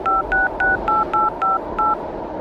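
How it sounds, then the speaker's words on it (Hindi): Seven short keypad tones from a telephone as a number is dialed, evenly spaced beeps played loud and clear with no voices. "अपने भाई राजू को फोन लगाया"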